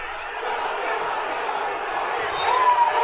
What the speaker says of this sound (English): the crowd is always fired up for Jon